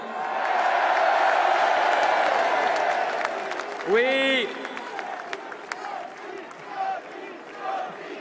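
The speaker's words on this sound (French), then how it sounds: "Applaudissez-le." Outdoor political rally crowd at the Trocadéro in Paris, cheering and clapping in a loud roar that dips midway, with a voice rising briefly above it and a speaker talking as the noise thins.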